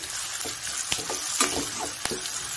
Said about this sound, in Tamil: வெங்காயம் பச்சை மிளகாய் நல்லா வதங்கிருச்சு